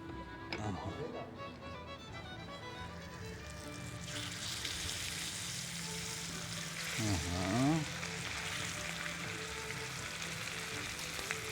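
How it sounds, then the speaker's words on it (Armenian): Bacon sizzles and crackles steadily in a hot pan, close and continuous, with a brief clatter partway through and faint sounds in the background. "պիտի հիմա տապակենք նաև այս 3 բեկոնի կտորը"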